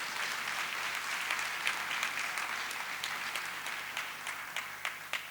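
Audience applause at a university pact-signing ceremony between USJ and Côte d'Ivoire, a steady dense wash of many hands clapping throughout, moderately distant, with a few sharper individual claps standing out near the end.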